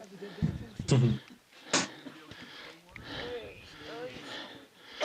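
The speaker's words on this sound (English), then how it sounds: "The heavy breathing you hear in the background could be any one of us standing near him." Heavy, ragged breathing with sharp sniffs and snorting inhales close by, while a voice talks underneath.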